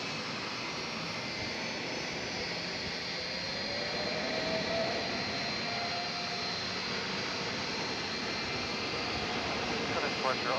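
Envoy jet airliner departing DFW Airport at night, a broad steady roar of engines holding strong and constant, heard from a distance for the whole stretch.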